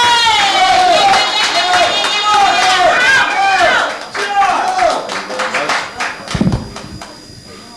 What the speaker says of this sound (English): give a big hand, a round of applause for Mr. John Roberts.